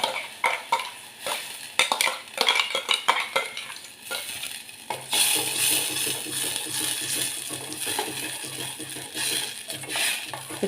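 Ground paste of tomato, onion and chilli hits hot oil in a pan for Kathiyawadi-style bhakhri pizza topping; clinks and scraping of stirring come first, then a steady, fairly loud sizzle and hiss carries on alone.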